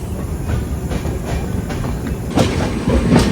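The Himsagar Express pulls into platform 1 at Jammu Tawi station, its wheels clattering rhythmically over the rail joints up close. A few louder clanks come near the end, with no voices.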